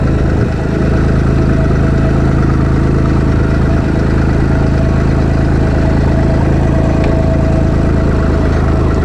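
A 1960 Massey Ferguson MF35 diesel tractor engine runs steadily at a loud, close, continuous idle, its low rumble unbroken throughout and no one talking over it.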